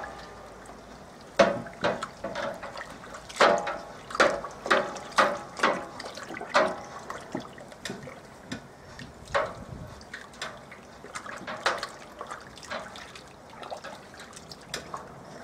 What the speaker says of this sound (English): give it a wee stir.